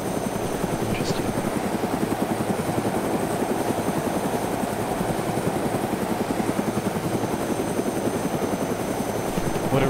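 A helicopter in the video game DayZ drones on close and loud, its rotor chopping in a fast, even pulse with a steady engine roar underneath for the whole stretch.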